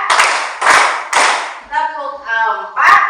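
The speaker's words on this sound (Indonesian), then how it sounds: "kita akan mulai dengan tepuknya" A class of students claps together in a counted rhythm, with three loud, full group claps in a row, followed by a teacher's voice speaking.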